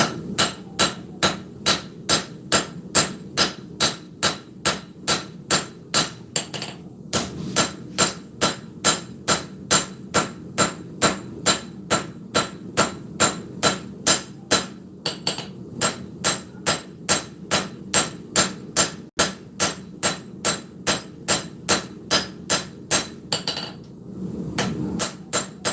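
A hammer forges a bevel on the tang of a wrought iron short-sword blade, ringing metallic blows in a fast even rhythm, close and loud, pausing briefly a few times before resuming.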